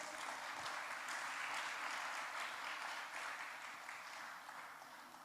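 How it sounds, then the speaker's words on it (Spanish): A church congregation applauds steadily during a service, dense clapping filling the room for several seconds and easing slightly toward the end. "Denle un fuerte aplauso al Señor."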